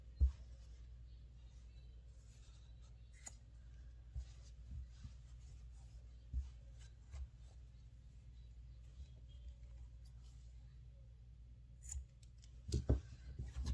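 Scissors trim excess yarn ends close to a crocheted granny square bag: scattered soft snips and clicks over a low steady hum, with a few louder cuts near the end.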